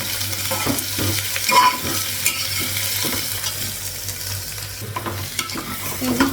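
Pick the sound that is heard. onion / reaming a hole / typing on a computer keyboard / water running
onion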